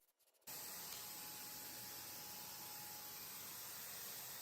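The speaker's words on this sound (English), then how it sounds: "I sprayed 2 coats of the dual all-in-one paint in the color black." A continuous close hiss of spray paint being applied to furniture, a black all-in-one paint sprayed in coats, starting abruptly and holding steady throughout.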